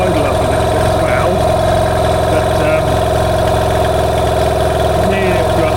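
A Yamaha 15 hp two-stroke outboard motor idles steadily and loudly up close after an idle adjustment, a continuous buzzing drone with a rapid even beat, and a voice talks over it.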